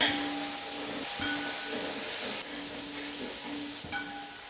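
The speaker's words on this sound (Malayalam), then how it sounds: "ഒരു 100 ml വിനെഗർ ആഡ് ചെയ്ത് കൊടുക്കാം." Vinegar being added to a tuna pickle: a steady, moderately quiet hiss with faint clicks, with no talking.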